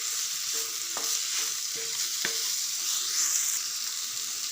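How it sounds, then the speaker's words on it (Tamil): Mixed carrot, beans, peas, potato and sprouts are stirred in a frying pan, giving a few distinct scraping knocks of the spoon over a steady sizzle, with no voices. "நல்லா கலந்து விட்டுருங்க."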